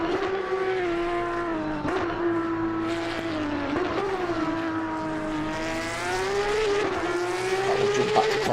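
A Porsche Cup race car engine screams at high revs in a sim race at Snetterton, rising and falling as it shifts through gears, loud and continuous with no voices.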